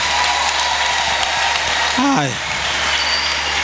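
A church congregation claps loudly and steadily throughout, a dense wash of applause with a brief high vocal cry rising over it midway.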